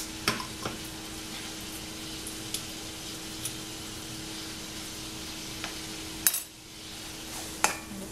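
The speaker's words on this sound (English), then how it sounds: "Your butter should be almost pretty much melted down." Butter sizzles softly as it melts in a pan for étouffée, a steady low frying hiss punctuated by a few sharp clinks of a utensil against the pan.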